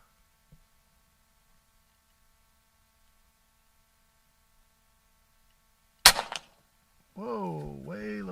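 A single sharp shot from an Umarex Gauntlet G2 .30 caliber air rifle, loud, brief and close, followed by a short decay, with a voice speaking shortly after.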